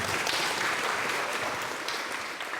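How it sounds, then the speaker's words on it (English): Audience applause after a spoken-word piece: a steady, dense wash of clapping that holds at a fairly even loudness across the whole stretch, with no voices standing out. "Another round of applause."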